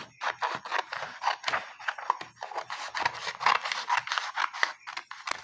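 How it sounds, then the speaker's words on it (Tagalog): Scissors cut through a sheet of paper, a long run of crisp, rapid snips and rustling slices repeating close up with steady rhythm and no voices. "pwede po kayong gumamit ng gunting guys sa paghati po nitong papel na ito"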